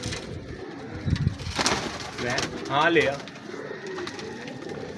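Pigeons at a breeder's loft coo in soft, rolling low calls, close by, with someone talking over and between them.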